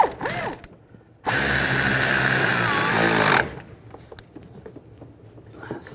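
An impact-style power tool zips strut mount bolts tight on a 2007-2013 BMW 328i front strut and spring assembly, one loud sustained burst of about two seconds, followed by quieter clicks and handling noises.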